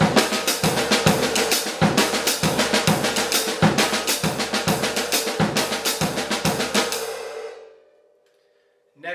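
Jazz drum kit playing a syncopation exercise: hi-hat on eighth notes, bass drum on quarter notes and snare filling the missing triplets, a steady, close, busy groove with thumping low beats, lasting about seven seconds and then ringing out.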